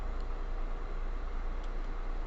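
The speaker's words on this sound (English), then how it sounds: "Sorry about the fan running in the background." Steady broadband whir of an electric fan running throughout, a constant low hiss with no pauses or changes.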